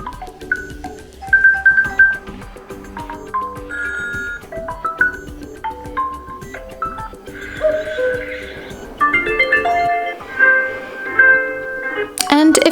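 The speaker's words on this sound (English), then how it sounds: "In order to listen how the particular one sounds, then simply tap on it." A preinstalled ringtone plays on a Huawei P40 Lite 5G phone, a bright, tuneful sequence of electronic tones heard clearly over someone talking throughout.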